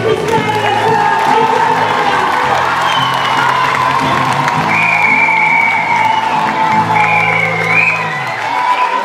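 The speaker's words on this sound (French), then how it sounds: "Attendez l'applaudissement pour nos musiciens." A theatre audience in a grand hall applauds and cheers for the musicians at an improv competition final, a loud sustained wash of clapping with whoops and voices mixed in throughout.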